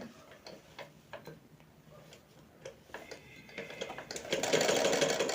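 Sewing machine winding thread onto a bobbin, a faint ticking mechanical rhythm that swells into a louder, faster whirring hum near the end.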